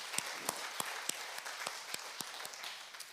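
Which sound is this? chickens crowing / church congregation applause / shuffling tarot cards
church congregation applause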